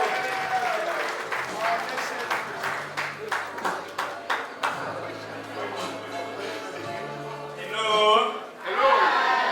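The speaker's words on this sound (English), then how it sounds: "Please, a round of applause for His Excellency" Audience applause at a send-off gala for a vice president, claps rising and falling in uneven bursts with a chuckle or two, a voice and tonal sounds breaking in near the end.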